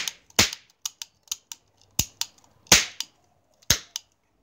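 A toy cap gun fires a series of sharp, snapping cracks at irregular intervals, some loud and close, others quieter, each dying away quickly in an otherwise quiet room.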